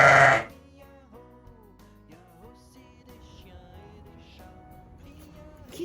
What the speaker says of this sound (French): Un mouton se cache derrière.